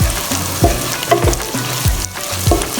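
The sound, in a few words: green chili pieces frying and being stirred in a pan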